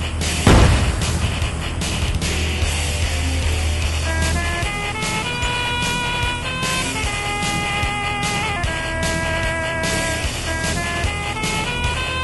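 A Leopard tank's main cannon fires once in ArmA 3, a sharp, heavy boom at the start, followed by a steady loud rumble of engine and battlefield noise that carries on to the end, with no voices.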